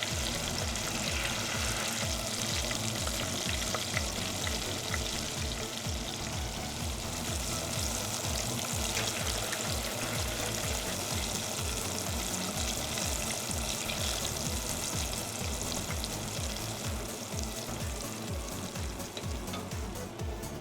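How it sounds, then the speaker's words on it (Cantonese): Apple pieces deep fry in oil at about 150 degrees over medium heat, a loud, steady, dense sizzle and bubbling that continues unbroken with no voices. "炸佢3分鐘到，炸到佢金黃色啦。"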